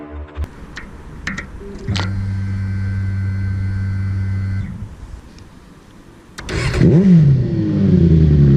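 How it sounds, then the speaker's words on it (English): A Suzuki GSR 600 motorcycle engine runs with a steady droning hum that holds for a few seconds, drops away, then swells again into a louder rising rev near the end, with no talking. "And that's the engine."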